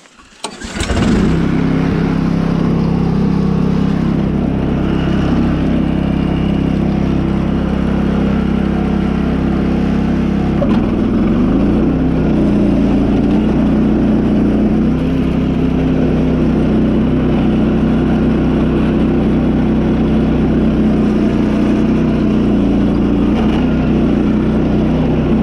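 A mud mower project machine's engine runs loud and steady for the whole stretch, its revs lifting slightly partway through as it is pushed harder, with no talk over it.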